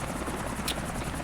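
Steady helicopter rotor and engine drone from GTA IV at night close to the ground, a continuous loud whir with a brief higher hiss burst midway, no voices.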